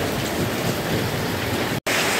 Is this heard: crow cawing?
no